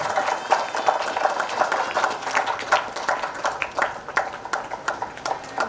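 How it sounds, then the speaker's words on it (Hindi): An audience at a school's Vande Mataram 150-year celebration in Baliapur, Dhanbad, claps steadily and fairly loudly, with dense overlapping hand claps filling the whole stretch and some crowd voices mixed in. "इस वर्दी के लिए, इस सम्मान के लिए तालियां बजनी चाहिए।"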